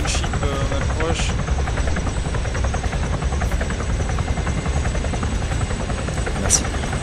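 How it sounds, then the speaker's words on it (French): A Chinook transport helicopter in the Arma 3 video game, its steady rotor drone and engine roar continuous and loud throughout, with radio voices talking over it. "Chinook en approche, descente lente."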